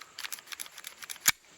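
A Staccato pistol slide racked smoothly, a quick run of light metallic scraping clicks ending in one sharp snap, close and isolated with no voices.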